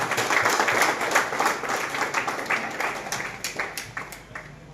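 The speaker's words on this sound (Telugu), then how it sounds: "ఒక చిన్నగా గట్టిగా క్లాప్స్ కొడదామా ప్లీజ్" An audience claps at a TVS Ntorq 150cc bike launch event, a dense burst of applause that is loud at first and gradually thins and fades over a few seconds.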